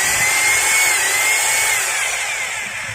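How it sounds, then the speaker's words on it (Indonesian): A Maktec MT870 rotary hammer drill runs steadily with no load, giving a loud, continuous high-pitched motor whine that tapers off slightly toward the end, with no voices. "Karena pada dasarnya mesin bor rotary hammer itu yang dipakai, yang umum dipakainya itu drillnya ya."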